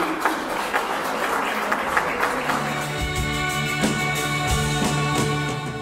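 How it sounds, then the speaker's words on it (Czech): An audience applauds painter Libor Lípa at his Obyčejné věci exhibition at GASK, a sustained patter of many hands clapping with music rising underneath. "Prosím o potlesk pro Libora Lípu."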